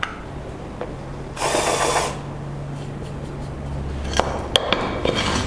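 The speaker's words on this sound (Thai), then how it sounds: "หรืออีกวิธีหนึ่งง่า ย ๆ ก็คือใช้พวกดอกสว่านลบมุมนั่นเอง" A brief high-pitched power drill whir with a countersink bit lasts under a second, followed by faint scraping and a few small clicks against a quiet hum.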